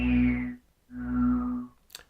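SynthScaper synthesizer tone with level modulation, two sustained harmonic bursts separated by a short gap as the level is swiped, ending with a brief faint click.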